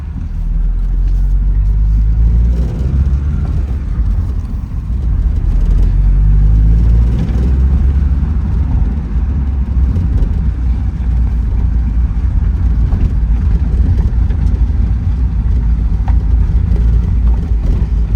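Porsche 944 that had long sat unused, driven on a road, its engine rumbling loud and close in a steady, low drone throughout with no talk.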